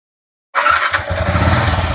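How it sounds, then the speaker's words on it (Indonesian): A Yamaha Jupiter MX King motorcycle with an overcharging fault starts up after half a second of silence, catching abruptly and settling into a steady, close, fairly loud idle. "sekarang kita lanjut hidupkan motor, kemudian cek jalur pengisian."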